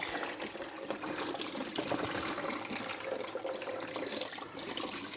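Steady rush of water drawn through an aquarium siphon hose started with a squeeze bulb during a water change on a 60-litre tank, a continuous close gurgling flow without talking.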